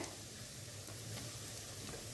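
An egg sizzles as it fries in a pan for egg thoran, a steady, soft crackling hiss that runs evenly throughout with no talking.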